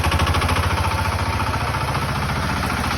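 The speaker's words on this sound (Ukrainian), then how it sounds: "показуємо вам сьогодні тест-драйв нашого житомирського міні-трактора." A small mini tractor engine, built from a walk-behind tractor, idles close by, a steady low rhythmic chugging that holds even throughout.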